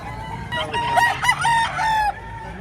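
A rooster crows once, close and loud, a drawn-out call lasting about two seconds over faint background noise.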